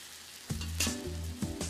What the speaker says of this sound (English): Now all my pots and pans are bubbling away